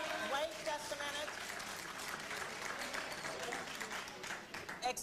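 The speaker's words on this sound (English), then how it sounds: "The more you applaud, the more we will use up the time here." An audience applauds at a public forum with the CIA director, dense clapping throughout, with voices mixed into the crowd noise.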